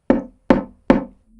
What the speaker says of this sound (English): I better knock.